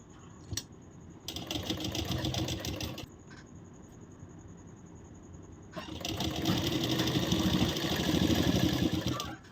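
A sewing machine stitching a blouse runs in two bursts of fast, even mechanical whirring with clacking needle strokes, separated by a quiet pause with faint clicks, close and loud.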